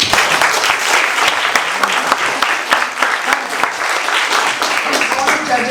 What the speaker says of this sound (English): I'd like to give a round of applause for all the teams who participated